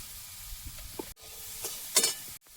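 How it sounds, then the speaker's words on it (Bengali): Sliced ridge gourd with turmeric frying in a pan, a steady close sizzle with stirring scrapes and a brief louder hiss near the end, broken by two short cuts to silence. "হলুদ দিয়ে ঝিঙেটা আগে ভালোভাবে ভেজে নেব"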